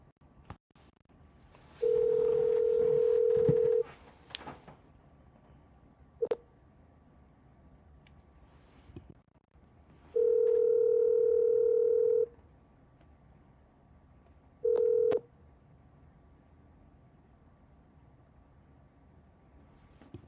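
Telephone keypad tones dialed one after another: a long steady beep, a short blip, another long beep and a brief final tone, separated by quiet gaps on a phone line, with no speech.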